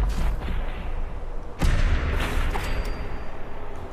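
A sniper rifle fires in Fallout 4, a sharp loud report with a rumbling tail standing out over ongoing game noise, with nearby shots and booms around it.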